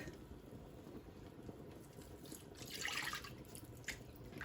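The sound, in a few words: milk being poured into flour and margarine roux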